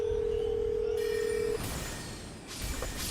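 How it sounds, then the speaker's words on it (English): An incoming Discord call ringing, a steady electronic tone for about a second and a half, then cut off, followed by quiet room noise. "Oh, I forgot to accept the phone call."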